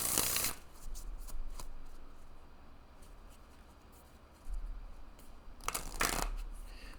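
Tarot and oracle cards are shuffled by hand, with crisp riffling bursts at the start and again near the end and softer, continuous card rustling in between, close and fairly quiet.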